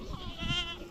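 A single goat bleat, close and fairly loud, wavering over about a second with a nasal, quavering tone.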